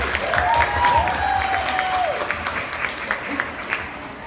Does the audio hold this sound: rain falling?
no